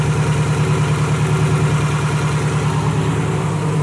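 A Subaru STi with a big turbo and freshly built engine idles steadily and loudly up close, a smooth, even low rumble with no other sounds.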